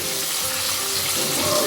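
Chopped tomatoes fry with spices in a pan for cabbage curry, producing a dense, even sizzle that stays close and steady throughout the short moment.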